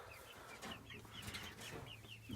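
Chickens cluck softly inside a big chicken house, with short overlapping calls from several birds against a low steady hum, faint and fairly distant.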